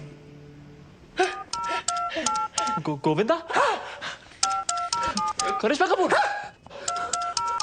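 Touch-tone telephone keys are pressed in quick clusters of beeps while people talk over them indoors, with a doctor being called.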